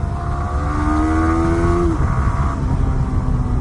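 Yamaha R15 V3.0 motorcycle accelerating hard with clutchless upshifts, its engine note climbing then dropping at each shift, loud and close with steady wind and road noise underneath.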